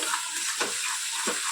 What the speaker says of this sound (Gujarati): હળદર, ગરમ મસાલો, ધાણા જીરું, સરસ બધું મિક્સ કરી લઈએ.